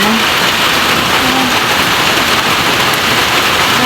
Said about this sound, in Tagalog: Napakaulan po dito ngayon sa amin. Sobrang ulan.